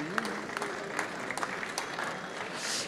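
Crowd applause at a sports champions awards ceremony in Montreuil, a steady blended clapping from the audience with a few sharper claps and a voice briefly audible underneath.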